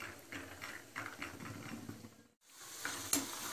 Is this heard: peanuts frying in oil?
yes